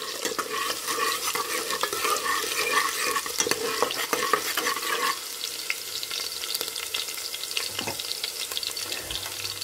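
Ingredients fry and sizzle steadily in a pan with oil, with stirring scrapes throughout, before onions are added; a dense, continuous crackle that thins slightly partway through, with no voices.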